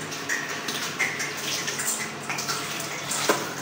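Water gushes steadily from a pipe, a close, continuous splashing rush with small spatters on top that stays even throughout.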